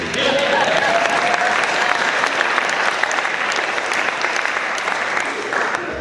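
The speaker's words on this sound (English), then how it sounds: "Y'all can clap for Larry." Members at a Rotary Club weekly meeting clap for Larry, a steady, loud wash of applause from a room of people lasting several seconds without a break.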